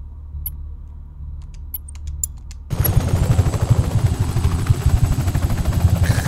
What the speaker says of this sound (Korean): 헬기 타고 다니니까 이렇게 편할 수가 없네